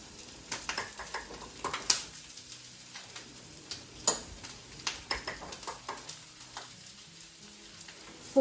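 Plain flour sprinkled into a hot sizzling pan for gravy, a soft steady sizzle under scattered light ticks and clinks, close and fairly quiet, no talking.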